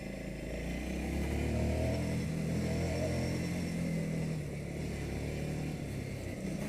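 A Ducati Scrambler Sixty2 motorcycle climbs a steep road in Kathmandu, its engine laboring with a continuous close, gruff drone and rumble that stays fairly even throughout.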